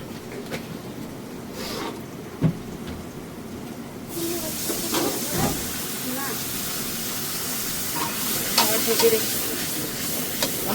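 Rohu fish head and tail being stirred into muri ghonto in a pan, a steady broadband sizzle with scraping stir strokes that grows louder partway through, with a voice speaking over it.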